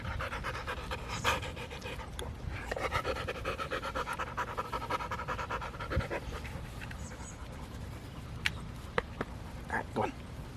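A dog pants nearby in a quick, steady rhythm of breaths that runs throughout, with occasional faint clicks and brief light taps near the end.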